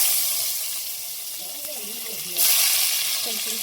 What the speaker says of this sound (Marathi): मी कांदे फोडणी देते